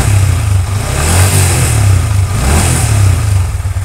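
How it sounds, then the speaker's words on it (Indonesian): A motorcycle engine on a live-tuning setup revs as the throttle opens, a loud close roar swelling and easing in two or three surges without popping or backfire. "ini kalau misal saya gas itu ya normal-normal saja."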